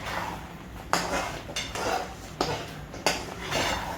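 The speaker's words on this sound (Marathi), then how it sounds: "हे चांगलं असं हलवून घ्यायचं आहे" Semolina sheera being stirred in a metal pan for prasad, a spoon scraping and clinking against the pan in several distinct strokes and taps, fairly close with a low hum beneath.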